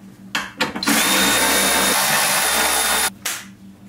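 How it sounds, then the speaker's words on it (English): A power tool drives and tightens the factory hardware securing a Teraflex HD tire carrier to its reinforcement, with two brief blips followed by one loud sustained whine of about two seconds, up close. "tighten in the factory hardware to secure the tire carrier to the reinforcement"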